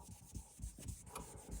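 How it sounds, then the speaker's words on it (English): An alcohol-soaked towel rubs over the base of a broken rear-view mirror, cleaning off dirt and sanding dust before gluing. The wiping comes as steady, close scrubbing strokes in a quick repeating rhythm, heard alone. "So you gotta wipe it with alcohol"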